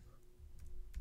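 A few quick, quiet clicks of keys on a computer keyboard as a layer name is typed, soft and close with a slightly louder tap at the end.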